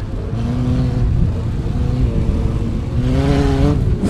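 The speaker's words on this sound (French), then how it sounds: "Grosse accélération, hein, ici en descente." Onboard a cross race prototype car accelerating hard downhill at the Antoing Cross Festival, the engine roaring loud and close with rising revs throughout, no talk.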